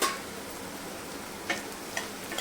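A spoon stirs spiny gourd (kantola) cooking in a pan, with a low sizzle and a few light clinks against the pan. No one speaks.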